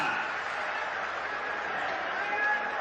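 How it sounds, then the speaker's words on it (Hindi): Audience clapping steadily at a large conference of village employment assistants in Madhya Pradesh, a dense, even wash of applause lasting throughout with no break. "जोरदार ताली बजाइए"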